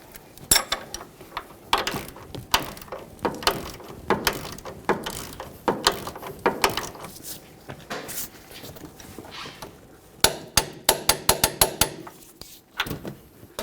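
A 22 mm ratchet wrench snugs up a camber adjustment bolt on a 1998–2011 Ford Ranger control arm, giving close, bursty runs of rapid metallic clicks with brief pauses, then a quick flurry near the end.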